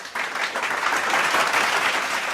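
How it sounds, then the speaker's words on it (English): Steady audience applause on a talk show, starting abruptly after a brief quiet moment and holding at an even, fairly loud level throughout. "Give her a round of applause."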